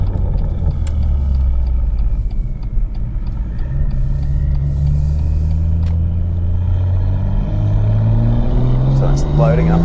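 A BMW M2 with an N55 engine running E85 fuel accelerates hard in third gear, its loud engine drone climbing steadily in pitch throughout, with a voice talking over it inside the car.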